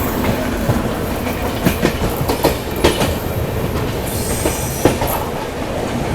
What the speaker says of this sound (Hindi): राजधानी को अपनी शताब्दी ने यहाँ पैरेलल ओवरटेक मार दिया, सियालदह राजधानी को।